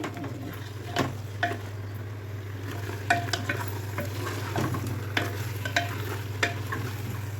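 Kurma masala fried in a pan and stirred with a utensil, a steady close sizzle underneath repeated scraping and tapping strokes against the pan, with no talking.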